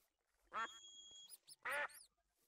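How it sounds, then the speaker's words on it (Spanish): Two loud, nasal duck quacks in a video game ring out about a second apart, with a faint electronic tone between them, otherwise quiet. "El pato. ¿El pato me puede dar algo?"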